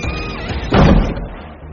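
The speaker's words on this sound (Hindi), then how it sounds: "सामने बाहर जाने का दरवाजा धीरे धीरे अपने आप बंद हुआ" A door slowly swinging shut on its own in a horror story, ending in one dull thud under a steady background of music or ambience.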